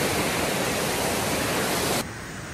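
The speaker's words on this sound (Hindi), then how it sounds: "इतना जो है ना तेज़ी से पानी आ रहा है और इतना शोर है" Manthoka waterfall thunders with fast rushing water, a loud dense steady roar heard up close that drops abruptly to a quieter wash near the end.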